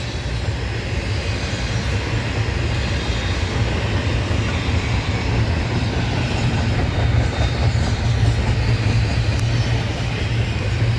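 A Norfolk Southern intermodal freight train rolls past close by, a loud, steady rumble of wheels and railcars with faint clickety-clack, continuous for the whole stretch without a break.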